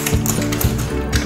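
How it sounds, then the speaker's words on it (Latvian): A key turned in a door lock with a special rekeying tool until it clicks, giving several close, regular mechanical taps and ratchet-like clicks alone, with no talk. "ieliekiet speciālo nūju, līdz klikšķim pagriežiet"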